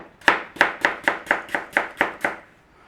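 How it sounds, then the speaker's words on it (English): Granny Smith apples sliced with a knife on a board for Normandy pork and cider, eight evenly spaced crisp chops in a steady rhythm, close and alone with no talking. "Now we want some slices of apples, same as the onions basically."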